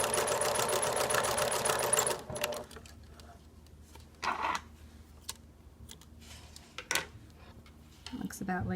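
A sewing machine runs a fast, even stitch across fabric for a cloth face mask for about two seconds, then stops, leaving quiet handling noises and faint talk afterward.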